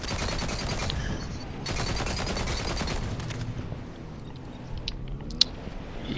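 Rapid automatic gunfire from a gun in the video game Borderlands 3, dense bursts of shots near and loud in the opening seconds, then thinning to scattered single cracks and clicks.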